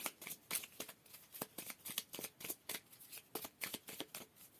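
Tarot cards shuffled and cut by hand, a rapid, steady run of soft riffling slaps at close range, faint and without any talking.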